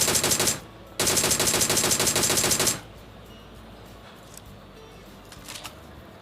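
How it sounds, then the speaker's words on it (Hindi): Rapid automatic gunfire from the video game PUBG Mobile comes in two dense bursts close together, loud and continuous, followed by quieter background sounds and a few faint distant shots. "उसने मेरे पे धड़ाधड़ फायरिंग करना शुरू कर दिया"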